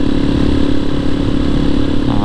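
A Yamaha Tricker motorcycle engine runs close by with a loud, steady droning hum that holds even throughout, with a voice partly present.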